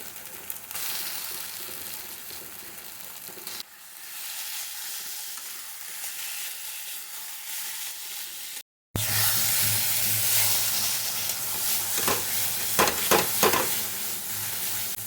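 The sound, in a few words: potatoes frying in a pan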